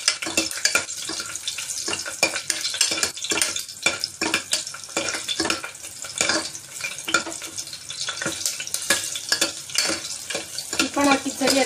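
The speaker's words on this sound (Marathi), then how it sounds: "आता मी त्याच्यामध्ये या लसणाच्या ज्या आपण पाकळ्या ठेचून ठेवल्या होत्या त्या लसणाच्या पाकळ्या टाकणार आहे आणि त्याला थोडं लालसर होईपर्यंत परतून घेणार आहे" Crushed garlic cloves frying in hot oil for khichdi, a dense crackling sizzle with frequent scraping stirs that keep a busy, uneven rhythm throughout.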